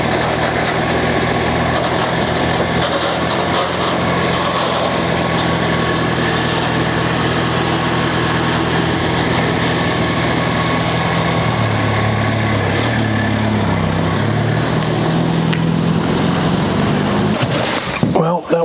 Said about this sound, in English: now we listen to the sweet sounds of my Bronco